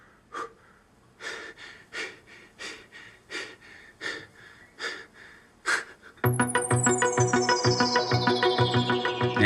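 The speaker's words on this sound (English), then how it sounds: "I'm recording some breathing as well" Person breathing steadily close to the microphone, about ten slow rhythmic breaths alone, before a dense bright music-like drone with rising tones takes over at the end.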